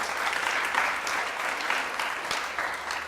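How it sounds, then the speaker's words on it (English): Sustained audience applause at an event with Governor Babatunde Fashola, a dense, steady wash of many hands clapping, fairly loud and unbroken for the whole stretch. "A round of applause for His Excellency."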